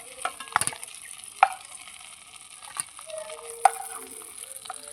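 Prawns frying in hot oil in a pan as they are lifted out, with a steady crackling sizzle and a few sharp clinks of a utensil against the pan.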